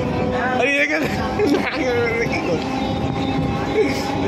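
A passenger train runs toward Ballygunge near Kolkata, its steady low rumble and rattle audible inside the carriage beneath close conversation and nearby voices.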